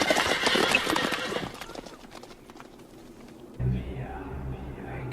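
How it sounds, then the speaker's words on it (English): In a scene from the 1999 film The Mummy, a spooked horse's hooves clatter quickly at first, then fade, followed by a soft snort and low rumbling as the scene quiets, with faint voices underneath. "The horse gets spooked by."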